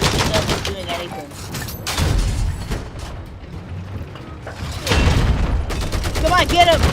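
Rapid bursts of an M1 Abrams tank's mounted machine gun in Battlefield 4, loud and sustained with booming impacts and battle noise, overlapping a voice.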